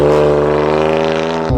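BMW M4 CS with a stage 3 tuned engine of around 700 hp, heard close and loud as a steady harmonic engine drone under acceleration, cutting off abruptly near the end.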